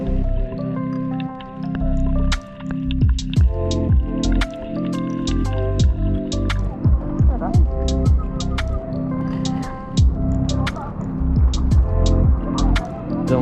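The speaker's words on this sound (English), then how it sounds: "On flip-flop washing duty." Flip-flops are rinsed and scrubbed in water at a rocky beach in Bali, making close wet squishing, dripping and splashing in uneven bursts over background music.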